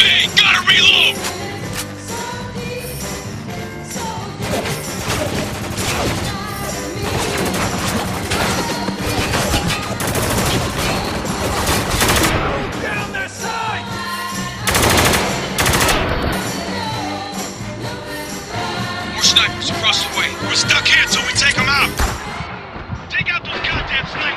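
A rooftop firefight in the video game Spec Ops: The Line, with loud bursts of automatic gunfire, single shots and crashing impacts running continuously under shouted voices.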